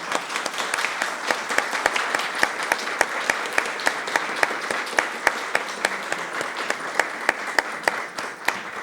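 An audience at an international legal pluralism seminar applauds a departing magistrate: sustained, even clapping from a sizable crowd, with some sharp individual claps standing out in a fairly regular rhythm, no talk over it.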